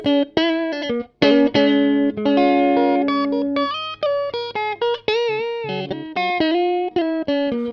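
Electric guitar plays a melodic phrase of sustained chords and single notes through an AC39 amplifier with a close microphone, loud and clear with a slight reverb tail and no speech.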